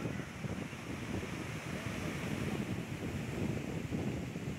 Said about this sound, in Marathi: आणि पहा हा धबधबा असा किती उंचावरून पडतो आहे.